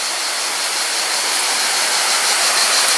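Steady, loud roar of the Çaylak waterfall pouring into a pool below, a broad continuous rushing wash with no pauses and no voices.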